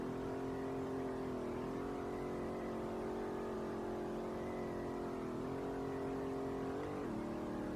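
A Nissan 350Z engine hums steadily in the racing game Street Legal Racing Redline while drifting on the Akina track. The close, continuous note swells and dips slightly as the revs shift, with no talking.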